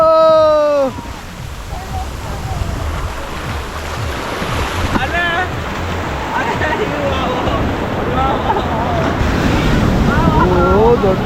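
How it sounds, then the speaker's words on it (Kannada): Sea waves at Digha beach, West Bengal, a continuous rushing surf with wind buffeting the microphone, while people talk excitedly over the roar after a brief opening tone. "ಅಷ್ಟು ಅಲೆ ನೋಡಿ ಹೆಂಗೆ ಬರ್ತಾ ಇದೆ"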